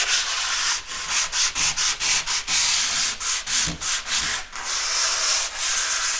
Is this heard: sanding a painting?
yes